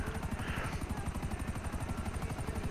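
A video game helicopter's rotor chops in a fast, steady rhythm, loud and close, with a faint voice underneath.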